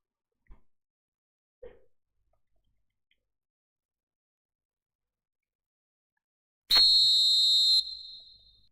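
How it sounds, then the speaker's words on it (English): A referee's whistle blown for a foul during a football match between Indonesia and China, a single loud sharp blast lasting about a second after a few faint knocks and near silence. "Whistle's gone, that's a foul."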